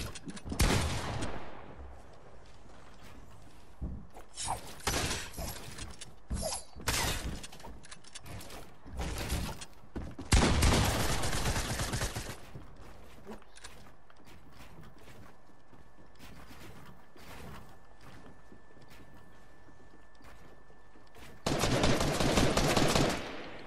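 Gunfire rattles through a video game 1v1 duel in several separate bursts, loud and close, with quieter gaps and mechanical clicks between volleys and no talking.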